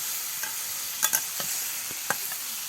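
Fried potatoes and fish eggs go into a spiced masala frying in a pan, with a steady bright sizzle and a few sharp stirring clicks and scrapes, close by, no talking.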